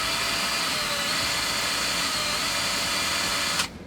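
A drill bores a 27/64 hole into a steel truck frame while a bracket is installed, a steady, loud high whine running for several seconds before stopping abruptly.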